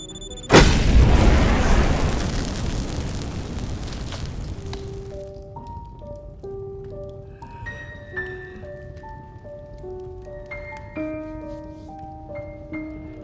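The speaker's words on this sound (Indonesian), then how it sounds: "begitu kotak itu dibuka, seluruh ruangan meledak" A room-filling explosion set off by a booby-trapped box in a film scene: one loud, close boom whose rumble slowly decays, followed by sparse, quiet musical tones.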